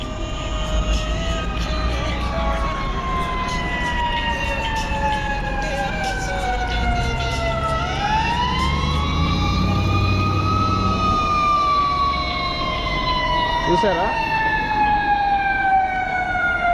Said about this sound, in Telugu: నా ఇప్పుడు ఫైర్ ఇంజిన్ వస్తుంది.